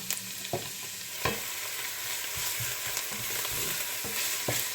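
Diced onion frying in a little vegetable oil alongside minced beef, a steady close sizzle with occasional stirring knocks and scrapes, for a Nigerian meat pie filling.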